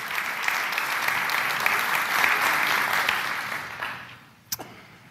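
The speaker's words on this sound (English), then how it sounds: "Let's give those folks a round of applause." An audience at a church debate event gives a warm round of applause, a steady crowd clapping that fades out toward the end, followed by a single sharp knock.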